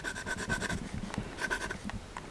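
Sailor 1911 Realo fountain pen with a medium 21 karat gold nib scratching across paper, a close, continuous rasping with rhythmic stroke bursts as it writes.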